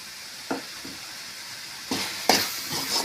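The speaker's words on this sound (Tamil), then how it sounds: "நல்லா கலந்து விட்டுக்கலாம்." Fish curry masala with chili powder being stirred and fried in a pan for a sardine curry, a soft background sizzle broken by a few brief scraping strokes of the spoon, growing louder toward the end.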